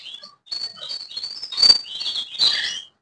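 Two young canary chicks chirp in a breeding cage, giving thin, high tweets and peeps in quick overlapping bursts, close and fairly clear, with no voices.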